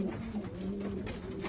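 Old-bird yearling racing pigeon cock cooing steadily at close range, a low rolling coo sustained through the moment without pause or talk.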